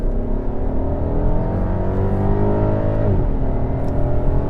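A 2018 Volkswagen Passat GT engine held at high revs in S mode, heard from the cabin as a loud, steady drone that climbs slowly under throttle and then drops sharply near the end, with no talking.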